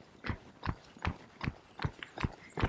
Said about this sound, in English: So I'm going to jog my horse around.